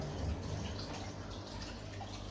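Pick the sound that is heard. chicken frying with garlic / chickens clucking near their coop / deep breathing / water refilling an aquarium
water refilling an aquarium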